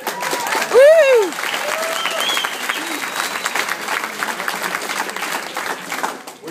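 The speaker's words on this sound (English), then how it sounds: "Wow, there wasn't much of an applause there, Tim." Thin, brief applause from a roast audience in a room, scattered clapping under an ongoing voice, with a loud whoop near the start.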